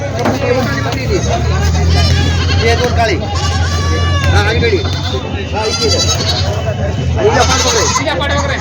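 Goats and kids from Parbhani bleating in a pickup truck at the Vasmat goat market, many overlapping close, loud calls over crowd babble and someone talking.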